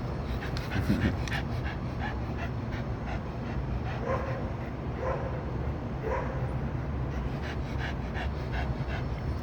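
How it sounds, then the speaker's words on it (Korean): A dog pants and barks in repeated short bursts, moderately near, over a busy outdoor background hum with scattered yips. "저기 롱다리 빼꾸가 계속 짖네요"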